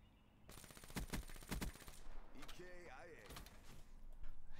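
Sniper fire in a first-person shooter video game comes as several loud, sharp shots in a quick cluster, followed by game effects and a rising whine, with a voice in the background.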